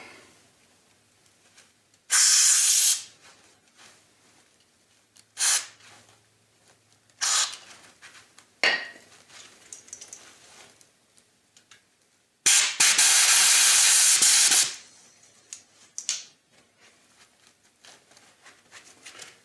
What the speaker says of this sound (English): Let's clean it out with a little bit of brake fluid here.